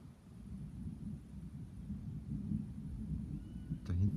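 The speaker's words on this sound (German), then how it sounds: "Es ist durchgehend so ein leichtes Grollen zu hören." A soft, low rumble of far-off thunder carries on steadily throughout, with a brief sharper knock near the end.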